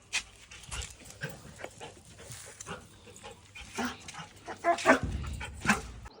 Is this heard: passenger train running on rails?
no